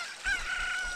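A chicken in the Legend of Zelda: Ocarina of Time video game gives a loud, sustained crowing squawk that starts sharply and holds steady, with no voices over it.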